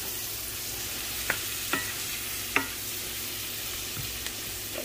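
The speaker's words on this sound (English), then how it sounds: "I got some kielbasa and onions cooking." Kielbasa and onions fry in a pan with a steady, close hiss of sizzling, broken by a few sharp clicks and scrapes from stirring, and nobody talks.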